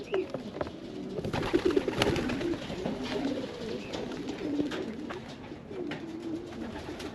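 Racing pigeons at a backyard loft coo steadily in a close, overlapping chorus of soft throaty calls, with faint rustling and flutter underneath and no talk.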